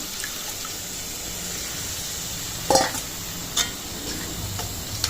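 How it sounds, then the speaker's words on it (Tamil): Washed goat blood poured into a pan of sautéed goat intestines, giving a steady low sizzle and hiss with a few soft clinks of a spoon against the pan. "இப்போ நம்ம ரத்தம் வந்து வாஷ் பண்ணதை வந்து ஆட் பண்ணிக்கலாம்"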